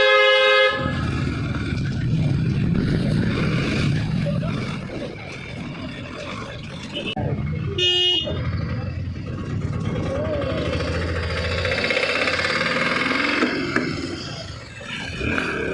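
Traffic jam on an Indian road near a market, with several loud vehicle horns honking in short bursts and a long blare, over rumbling engines and street noise, with people talking throughout.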